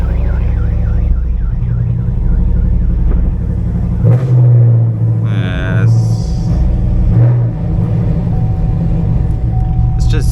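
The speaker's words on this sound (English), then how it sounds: "Put it in gear and it's misfiring like crazy." A Chevrolet Camaro with a misfire is driven around the block, its engine a loud, heavy, uneven low rumble with surging throughout. A warbling tone rises over it early, and a brief louder burst comes near the middle.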